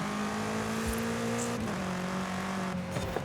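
A car in the racing game Forza Horizon drives on island roads, its engine holding a steady droning note that shifts pitch as it changes speed, loud and continuous with no talking.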